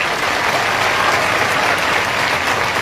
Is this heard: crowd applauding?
yes